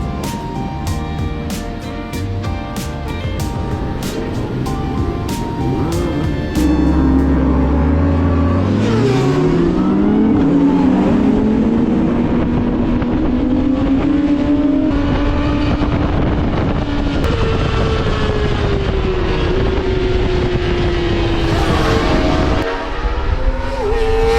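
Kawasaki sport motorcycles racing on track at Donington Park, engines revving hard with rising and falling pitch as bikes pass and shift through gears, loud and continuous.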